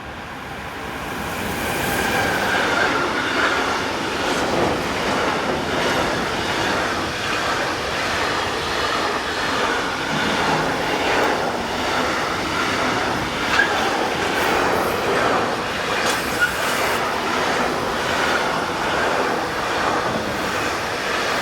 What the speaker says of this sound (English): 185569 is loaned out to SBB Cargo, and here it heads train DGS 43742 from Novara to Köln.